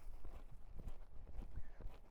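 Horse hooves clip-clopping in a steady walking rhythm during a groundwork session, close and moderately loud, with no talking.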